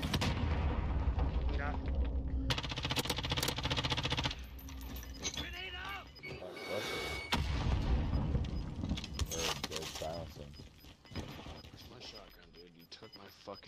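Shotgun blasts and other gunfire boom through a fast-paced shooter video game, loud repeated shots mixed with mechanical clatter and explosions, with voices talking over the combat.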